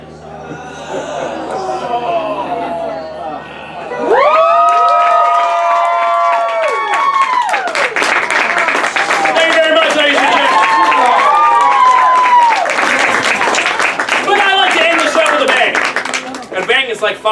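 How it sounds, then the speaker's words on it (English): A crowd at a sword swallowing show cheers and claps loudly, with whoops and shouts rising over sustained applause that starts abruptly and carries on to the end. "Like 5 times the applause that was."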